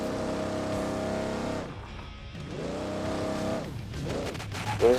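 Off-road vehicle in Overpass 2 driving through mud, its engine droning steadily with revs rising and falling, briefly dipping near the middle before surging again.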